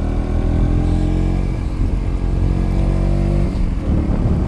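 A motorcycle labors up a steep road toward a Shiv temple in Pokhara, its engine loud and close with a steady, strained drone and slight revving throughout.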